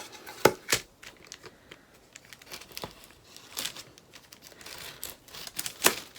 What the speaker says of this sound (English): I'm just using the edge of my palette knife, which works really well too, just to score the tape.